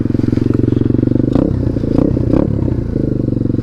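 A Chinese pit bike's small single-cylinder engine, fitted with a new cheap air filter, putters at a steady pulsing idle, then blips through several quick revs before settling back, close up and alone.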